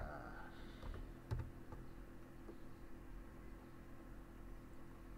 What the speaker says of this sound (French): commençons à écrire par exemple Dakar